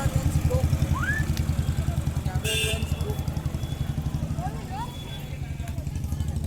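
A motorcycle engine idles nearby with a steady low throbbing pulse during a Chhath festival gathering in Madhubani, Bihar. People talk over it throughout, and no clear pull-away can be picked out.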